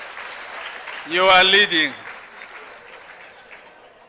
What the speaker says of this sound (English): Let's give a round of applause to Limpopo.